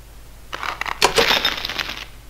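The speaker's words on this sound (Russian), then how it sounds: "Конфетки наши рассыпались." A bag of candies spills open in the Silent Hill video game, a close, bright clatter of small hard pieces scattering and rattling for about a second and a half, with no speech.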